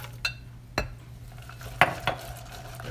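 Walnut pieces stirred into a honey pie filling in a bowl: a few quiet, separate clinks and scrapes of a utensil against the dish, spaced irregularly over a faint background hum.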